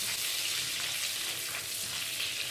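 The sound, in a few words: cumin and asafoetida being sautéed in oil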